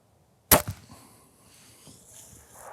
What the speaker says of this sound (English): And then we are shooting our 350 grain arrow.